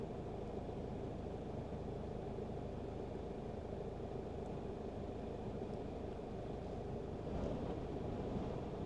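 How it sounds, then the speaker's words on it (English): Steady wind roaring at a lake in an Icelandic volcanic mountain area, a constant broadband rush with mic buffeting, fairly faint and unbroken throughout. "Very windy area."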